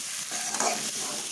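Potatoes are stir-fried with spices in oil for egg and potato dum, giving a brief, close sizzle with a quick scrape of a stirring spoon in the middle.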